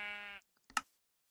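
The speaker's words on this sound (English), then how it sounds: "Oh, pink sheep!" A pink sheep bleating in the video game Minecraft, one clear bleat followed by a short soft rustle and a brief sharp click, quiet and isolated.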